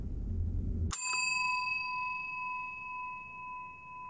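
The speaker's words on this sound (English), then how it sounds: "Bell's been rung for an 8th time." A single bright bell strike in the indie horror game Suite 776 rings out cleanly after a low rumble cuts off, its metallic tone hanging and slowly decaying in near silence.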